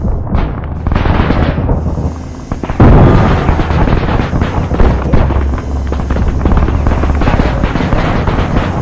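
Helicopter gunship rotor and engine roar in a combat setting, loud and continuous, with heavy low thumping bursts like explosions or gunfire mixed in throughout.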